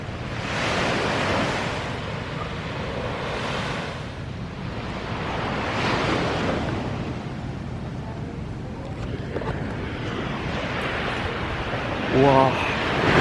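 Ocean surf washing onto a beach at El Nido, Palawan, with a mountain rising beside it, a steady wash of waves rolling in and out with some wind rumble, moderately loud and continuous.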